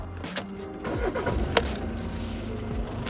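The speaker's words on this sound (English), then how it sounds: "the way to do that is to turn on the car" Volkswagen Golf VII 2.0 TDI diesel from 2016 with automatic gearbox starts up: a short cranking whir, then the engine catches and settles into a steady idle, heard close.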